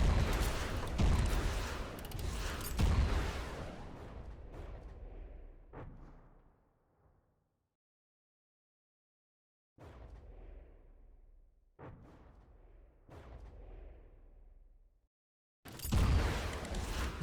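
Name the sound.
missiles being fired in the video game From The Depths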